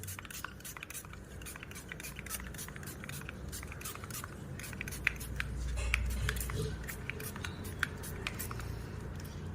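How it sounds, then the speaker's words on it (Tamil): Isopropyl alcohol being sprayed onto the surface of handmade almond soap, a series of quick hissing spritzes repeated in an irregular rhythm, close and moderately soft over faint background noise. "இப்போ நம்ம வந்து இந்த ஐபிஏ ஸ்ப்ரே பண்ண போகிறோம் சோப் மேலே"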